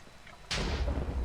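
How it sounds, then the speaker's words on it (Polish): A lightning strike in Minecraft lands abruptly with a sharp loud crack, then rolls into a sustained, booming rumble that fills the rest of the moment. "A jak walnę tutaj piorunem,"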